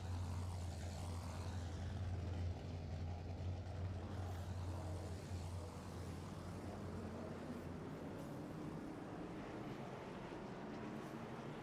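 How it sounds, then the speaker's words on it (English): Race cars in the iRacing sim roll out onto the track for a Trackside NASCAR Outlet ARCA Series event, a steady low engine drone with rising harmonic sweeps, moderately loud and continuous with no talk. "As the cars make their way out onto the racetrack."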